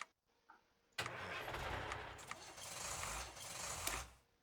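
In the Hearts of Iron IV strategy game, a truck engine cranks and starts with a loud, close roar that holds for about three seconds and then fades. A couple of short clicks come before it.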